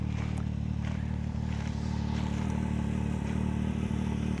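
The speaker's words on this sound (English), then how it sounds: "This is our Can-Am X3 Max" A Can-Am X3 Max turbo side-by-side idles with a steady low rumble and light mechanical clatter, close and continuous with no talking.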